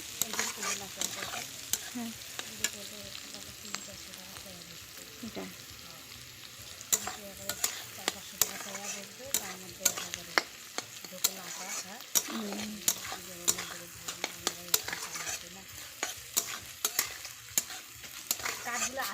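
Carrots, beans and peas frying for fried rice over a cooking fire, a continuous close sizzle broken by frequent sharp scrapes and taps of a spatula on the pan.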